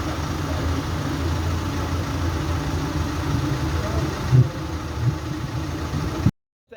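A Peugeot Landtrek 1.9-litre diesel engine runs at a steady, rumbling idle close by, with a couple of brief knocks near the end before the sound cuts off abruptly.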